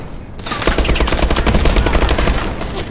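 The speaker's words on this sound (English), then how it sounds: "I'm taking fire!" Rapid automatic gunfire rattles loud and close in Call of Duty: Advanced Warfare multiplayer, a dense unbroken stream of sharp shots running for a few seconds after a brief quiet start.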